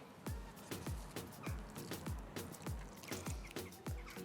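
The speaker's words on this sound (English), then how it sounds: "A little bit of water." Water poured from a small vessel into a ring of fire chili plant in a small windowsill or balcony container, heard as a quick series of about ten close, regular drips and splashes with no talking.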